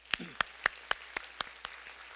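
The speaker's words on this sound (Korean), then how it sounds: "하나님 앞에 박수로 영광을 돌려드리겠습니다" Steady rhythmic clapping in a church service, about eight evenly spaced claps, close and clear, with a brief faint voice near the start.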